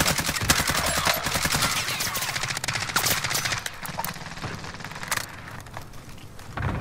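Rapid bursts of video game gunfire crackle in quick rhythmic volleys, loud and close at first, then thinning into scattered shots with a few sharp late cracks.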